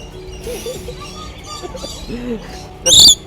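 Birds chirp and twitter softly around people talking, ending with a louder, sharp squawk close by.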